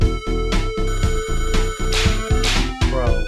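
A phone ringtone and whip cracks are sampled into a busy 90s Sonic-themed music track. The ringing tones repeat rhythmically among loud, dense beats and synth layers.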